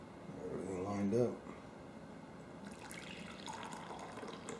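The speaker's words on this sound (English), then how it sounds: "Let's pour the coffee in there." Coffee poured from a pot onto turmeric in a cup, a brief rising gurgling pour that stops abruptly, followed by faint clinks and room noise.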